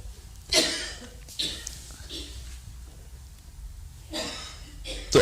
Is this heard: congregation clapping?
no